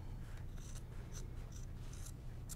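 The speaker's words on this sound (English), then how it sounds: "I'm just going to trim the two corners off the sides of the bag." Scissors snip through fabric while trimming the corners off a sewn tote bag, giving a few brief, faint cuts spread over a steady low background hum.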